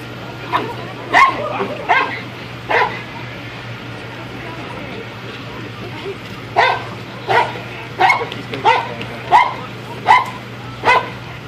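Police K9 dog at a bite-training demonstration, letting out a regular run of sharp barks and yips mixed with whimpers, fairly close, under a constant background drone.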